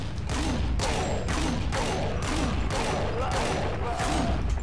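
The Flame Jackhammer weapon in Counter-Strike Online fires a steady string of loud, heavy blasts, about eight evenly spaced booming shots over a constant roaring background.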